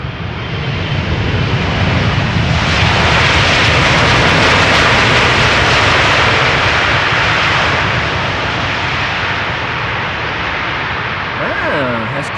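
A KLM Boeing 777-300 arriving from Delhi rolls in at Schiphol's Polderbaan, a loud broad jet roar swelling and holding close by, with voices talking over it.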